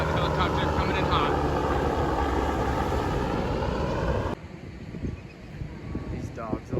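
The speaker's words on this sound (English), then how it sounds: "Helicopter coming in hot, helicopter coming in hot." A helicopter flies in low over a Southern California beach, a loud, steady rotor and engine roar mixed with wind noise that drops off sharply partway through, leaving quieter wind and surf.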